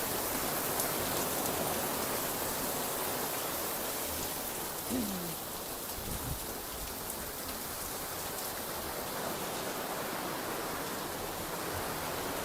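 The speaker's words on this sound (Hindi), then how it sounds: "Just enjoying the rain." Steady rain falls throughout, a dense even hiss of drops on surfaces heard close and continuous, with a brief faint low sound partway through.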